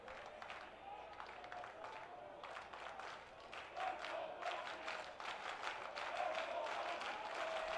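Rhythmic clapping rises from the student sections at a high school state championship baseball game, a dense crowd patter that builds in the second half, with murmuring voices underneath.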